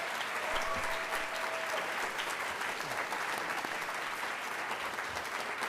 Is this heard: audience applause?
yes